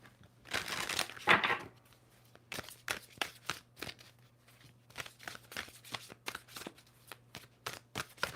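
Tarot cards riffle and snap in a brief flurry, followed by a series of quiet, evenly spaced taps and flicks as the deck is handled.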